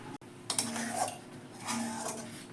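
A spoon scrapes and knocks against a pan while papaya firni with cashews is stirred, giving soft intermittent metallic clinks and scraping strokes at low volume.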